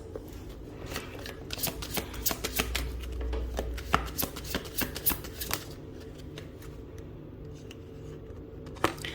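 Tarot cards shuffled by hand in a quiet room, a steady run of crisp riffling and slapping card sounds close up, with a few sharper snaps near the end.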